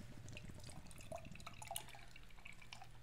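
Ska Brewing True Blonde Ale pours from a can into a glass, a steady faint gurgle with small drips and fizzing splashes throughout.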